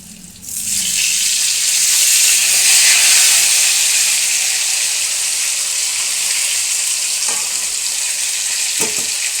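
Cauliflower dropped into hot oil beside pumpkin in a pan, a loud hissing sizzle that bursts up at once and holds steady, with a couple of faint taps and no talk.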